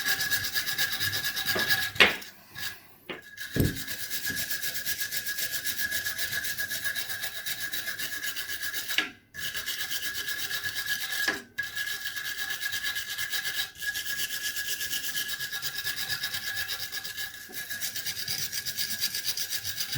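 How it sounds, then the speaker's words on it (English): A wire brush scrubs a motorcycle footpeg bolt on a DR200 during a footpeg and mount replacement, making a steady close rasping scrub with a few brief pauses and bumps. "We might want to give that a bit of a wire brush, get the crap out of it."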